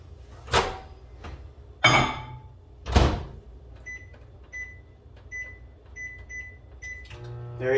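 A microwave oven set to cook rice for 17 minutes gives several close clunks of its door and keypad, then a run of short, evenly spaced electronic beeps as the time is entered, over a low hum.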